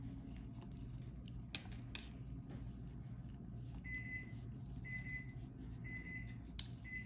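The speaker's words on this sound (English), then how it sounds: "Sorry about that, oven timer's going off." An oven timer in a kitchen beeps in a faint, evenly spaced series of short high tones over a low background hum, with scattered small clicks.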